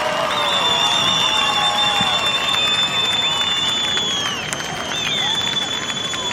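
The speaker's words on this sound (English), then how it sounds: "the crowd cheering for him" A beach crowd cheers for surfer Filipe Toledo, a constant broad roar with whistles and shouts layered through it, loud and sustained.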